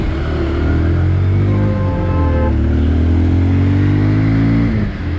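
Bajaj Pulsar 150 Twin Disc BS6 motorcycle engine running during a road ride, a steady loud drone with rising harmonic tones as revs climb and then settle, continuous throughout with no talk.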